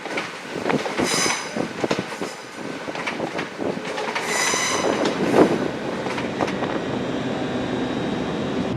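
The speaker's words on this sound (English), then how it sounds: "So we're now on the 10:42 ScotRail service." A ScotRail class 385 electric train runs along the East Coast Main Line near Edinburgh, heard from on board with rumbling wheels, rhythmic rail clicks and repeated high squeals, steady and fairly loud throughout.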